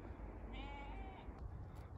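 A single sheep bleats once, a drawn-out wavering call in an open field in the Yorkshire countryside near Malham, heard over steady wind noise buffeting the microphone.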